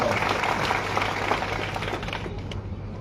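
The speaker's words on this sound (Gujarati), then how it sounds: "એ બીજે ઠાકોર માટે એક વાર જોરદાર તાળી" Crowd applause at a Thakor community gathering, a steady wash of many hands clapping that thins slightly toward the end, with some voices mixed in underneath.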